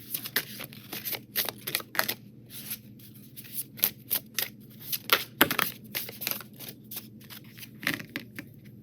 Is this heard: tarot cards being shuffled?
yes